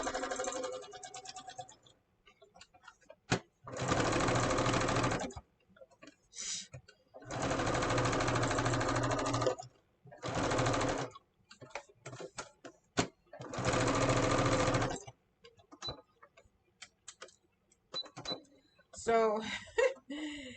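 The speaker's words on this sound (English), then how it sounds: "if that sewing right there was any indication of how difficult it was to sew that vinyl, that was a beast" Sewing machine stitching vinyl and denim in loud, steady bursts of a few seconds each, separated by pauses with handling noise and short stretches of talk.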